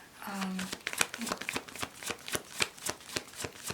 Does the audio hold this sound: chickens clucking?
no